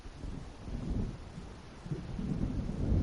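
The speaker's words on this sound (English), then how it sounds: "It seems there's a storm coming." Thunder rumbles from an approaching storm in the video game Alan Wake Remastered, a deep, continuous roll that swells louder toward the end, with wind and rain noise and no talking.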